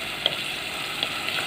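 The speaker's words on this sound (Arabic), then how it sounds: "واشوحها بقى، احمرها كده كويس،" Onion and a garlic clove sizzle steadily in a hot pan, a dense bright frying hiss with a few soft scraping stirs and small pops, close and alone with no voices.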